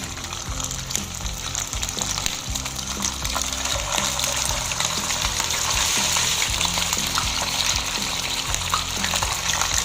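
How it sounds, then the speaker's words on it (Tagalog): Salted fish dropped into hot oil in a pan, giving a loud, steady sizzle and crackle that lasts throughout, close up and alone. "Ayan, mainit na guys yung ating oil. Lagay na natin yung ating isda."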